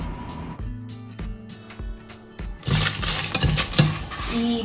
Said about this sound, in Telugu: ఏడు ఎండుమిరపకాయలు ఒక రెమ్మడు కరివేపాకు వేసుకొని ఫ్రై చేసుకుందాం